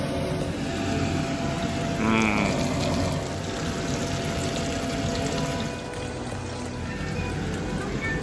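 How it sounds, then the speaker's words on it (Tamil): Chicken pieces for a homemade KFC-style fried chicken sizzle in hot oil, a steady broadband hiss with soft bubbling that holds throughout at moderate loudness, with no talking. "இப்போ மெல்லமாக நான் ஒவ்வொரு டைம் வந்து மிக்ஸ் பண்ணினது எல்லாத்தையும் பொரிச்சு கொண்டு இருக்கிறேன்"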